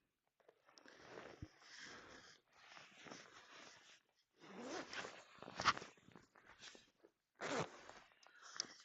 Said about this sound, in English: We were gonna zip it.